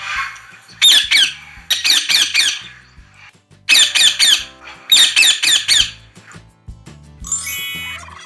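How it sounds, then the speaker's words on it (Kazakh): A parrot squawks in several loud, rapid bursts of harsh repeated calls with short gaps between them, ending in a higher whistling call. "Тоты құс, попугай,"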